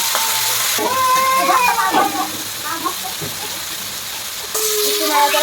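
Prawns fry in hot oil in a wok, giving a loud, continuous sizzling hiss that dips briefly in the middle, while a voice talks over it.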